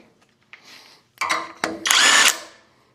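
Cordless impact driver spinning a part off a drill press part clamped in a vise: a few short whirring bursts, then a longer loud rattling run, close and with no talk.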